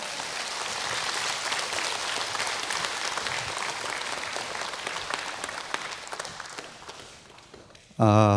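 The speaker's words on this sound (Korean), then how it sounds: "큰 박수로 원장님 말씀 듣도록 하겠습니다." An audience at a Korean KBS lecture-series event applauds steadily for several seconds to welcome a lecturer, the clapping broad and even before a spoken voice breaks in at the very end.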